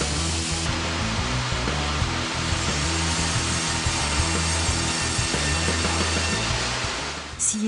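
Wood being sawn by a large, heavy sawing machine makes a continuous, loud grinding drone with a steady mechanical hum close by, cutting off near the end.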